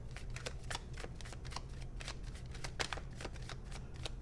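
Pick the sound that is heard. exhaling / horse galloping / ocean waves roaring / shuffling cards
shuffling cards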